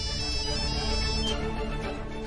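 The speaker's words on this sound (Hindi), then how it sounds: "रमेश्वर, राधा का फोन है, वो भी इतने दिनों बाद।" An incoming-call ringtone plays on a phone in a Hindi TV drama scene, a steady melodic tone held at moderate level without pause for about two seconds, with no one talking over it.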